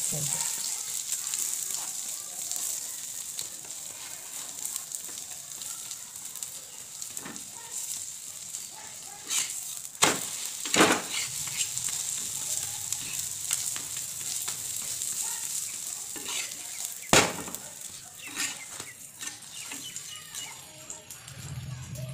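Roti with egg fries in a pan over a high gas flame, a steady close sizzle running throughout with a few sharp clacks and bumps of a spatula pressing it down, and no speech.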